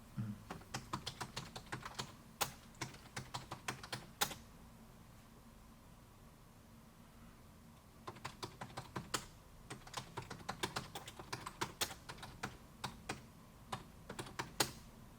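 Rapid typing on a computer keyboard as a company description is entered, with bursts of close, crisp key clicks, a pause in the middle, then another steady run of keystrokes, no talking.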